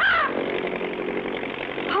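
An old jungle cargo plane's engine sputters and drones in a 1959 cartoon, a rough, buzzing, continuous roar that holds steady for a couple of seconds, loud and close with no talking.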